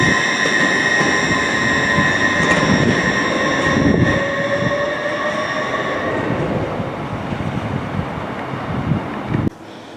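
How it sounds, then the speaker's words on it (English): A train passes through Wakefield Westgate railway station with a loud, close rumble and sustained high squealing tones from the wheels that fade over several seconds before the noise drops abruptly near the end. "We're going to do some train spotting here at Wakefield Westgate."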